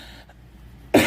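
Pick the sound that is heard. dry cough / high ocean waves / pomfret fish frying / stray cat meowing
dry cough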